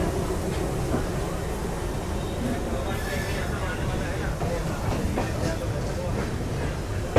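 A Telangana Express hauled by a WAG-3 electric locomotive rolls along the rails with a steady rumble and rattle of wagons, light clicks of wheels over joints, and a faint murmur of voices in the background.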